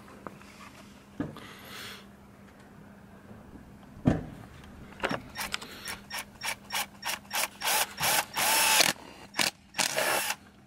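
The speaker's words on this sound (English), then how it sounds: "the reason we're drilling 2 holes" An electric drill boring two holes whirs in a series of short bursts, quickening into rapid repeated pulses, with a sharp knock partway through.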